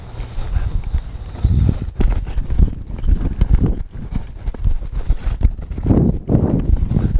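A cutting horse works a cow, its hooves thudding and scuffing in quick irregular bursts of stops and turns on dirt, loud and close throughout with no voices.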